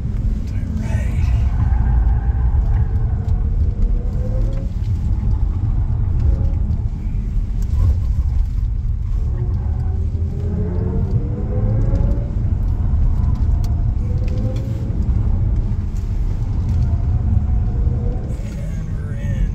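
All-electric BMW i5 car being driven, a steady loud low rumble of road and cabin noise throughout with faint rising whine tones, no engine roar, and a voice talking underneath.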